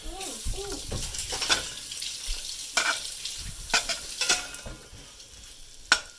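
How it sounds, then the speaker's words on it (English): Butter melting in a pot on the stovetop sizzles and crackles close by, broken by several sharp scrapes and knocks of a utensil, with faint murmuring voices early on. "now we will melt this butter in order to put it over the popcorn"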